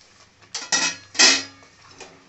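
Metal lid handled on a cooking pot of simmering jowar (sorghum) broken grain in a home kitchen, a few sharp clanks and scrapes in quick succession, close and clear, with no talk.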